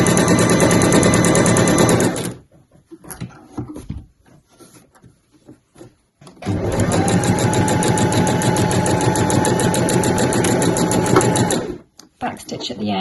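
A sewing machine stitching bag fabric runs in two long, steady bursts of rapid mechanical whirring, with a pause of quieter handling and small clicks between them.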